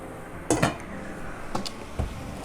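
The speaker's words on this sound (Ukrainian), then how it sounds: "набираю просто в каструлечку води і ставлю." A saucepan of water is set down on an induction hob in a home kitchen, giving a few light metallic clanks and knocks over quiet room tone.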